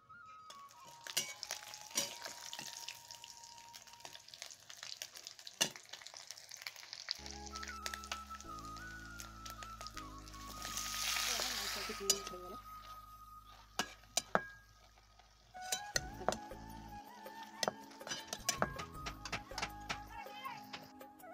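Bottle gourd greens fry with shrimp in a pan, a soft intermittent sizzle broken by clinks and scrapes of utensils, with quiet stretches between.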